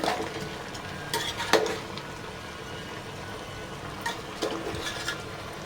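Chicken for Malvani curry sizzles softly in a pot while being stirred, with a few scraping clinks of the utensil against the metal over a quiet frying hiss.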